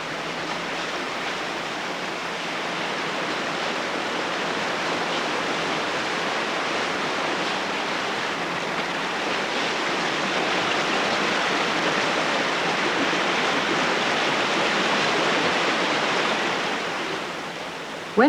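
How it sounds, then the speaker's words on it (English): Water rushing over limestone rock, a loud, dense and unbroken roar holding steady for the whole stretch with no voices. "When water rushes over limestone for long enough, it wears it away."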